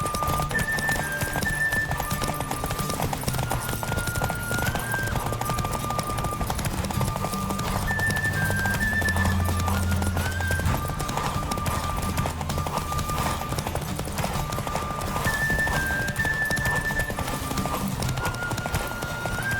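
Rapid, steady hoofbeats of a galloping horse in The Witcher 3 video game clatter on without pause, backed by a faint melodic tune and brief bits of low voice.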